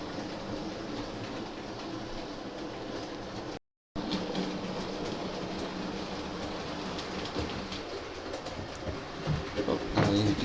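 Hornby Flying Scotsman OO gauge model steam locomotive running on a modular layout, a steady close rumble and whir with faint rhythmic clicking, continuous and without talk.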